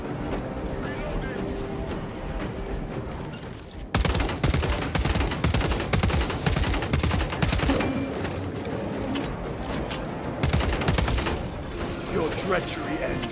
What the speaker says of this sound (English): this burst rifle with the scope isn't that bad